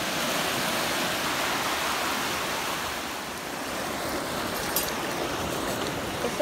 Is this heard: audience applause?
no